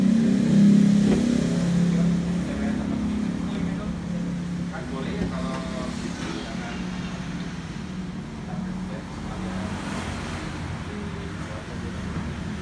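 The engine of a Toyota Yaris TRD Sportivo runs steadily, a low, even drone heard at moderate level with a voice speaking over it.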